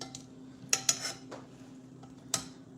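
Hot honey chicken wings tossed in a pan, giving a few quiet metallic clinks and clatters spread over a few seconds, with no talking.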